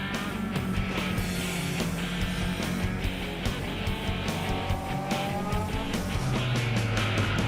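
A race car losing grip on a slick Nürburgring track, with a loud, continuous engine roar, tire squeal and skidding throughout, close and alone.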